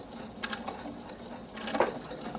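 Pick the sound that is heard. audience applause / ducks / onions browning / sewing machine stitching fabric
sewing machine stitching fabric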